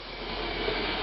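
A bathroom exhaust fan on a timer switch moving air, a steady, even whoosh of airflow with no distinct motor whine, continuous throughout.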